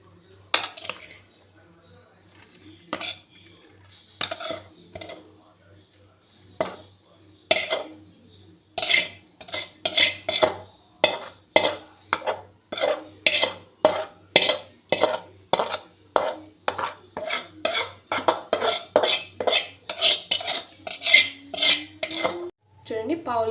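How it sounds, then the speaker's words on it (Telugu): Grated carrot stirred and roasted in a pan over a low flame for carrot halwa, a spoon scraping and clinking against the metal pan in quick repeated strokes that speed up into a steady rhythm, close and fairly loud. "ఇలా కలుపుతూ లో ఫ్లేమ్లో వేయించుకోవాలి"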